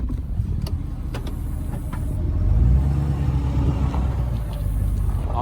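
A Ford F250 pickup truck on 37-inch tires pulls out onto the road, its engine rumbling low and steady from inside the cab as it accelerates, with a few light knocks and creaks over the drone.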